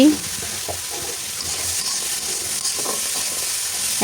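Three thinly sliced ripe tomatoes fry in a pan for a winter vegetable curry with a large fish head, giving a steady, close sizzle and crackle that runs without a break throughout.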